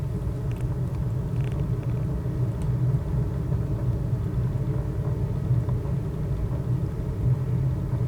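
Twin piston engines of a DA62 aircraft at full throttle on takeoff in MSFS 2020, a steady loud droning rumble throughout with no speech.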